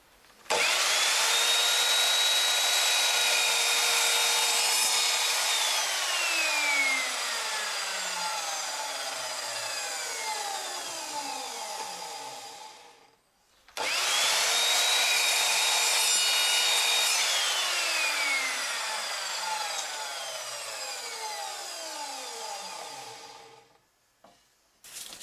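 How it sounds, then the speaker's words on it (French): A saw cuts small wooden diamond pieces at a 30-degree angle for an Eiffel Tower tabletop. Two long, loud cuts each last several seconds, with a whining tone that falls away as each pass ends. "Je vais donc maintenant débiter mes petits losanges"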